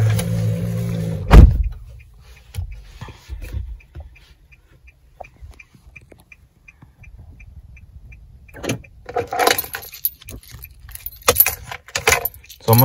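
Car keys jangle sharply up close as an OEM key for a universal key system is handled, one loud jingle followed by quieter clicks, a faint repeating beep and later rustling handling sounds.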